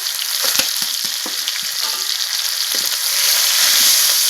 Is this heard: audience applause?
no